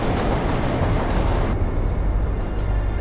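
Continuous rumbling roar of a subway train in the Spider-Man 3 video game, a dense, steady rail rush with faint clacks, heard alone without talk.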